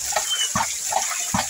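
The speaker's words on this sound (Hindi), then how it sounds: "थोड़ा पानी निकल रहा है गीजर का" Water gushes from a newly drilled borewell as its head is washed out, a steady rushing flow with rhythmic surges about every 0.4 seconds, close and moderately loud, with no speech over it.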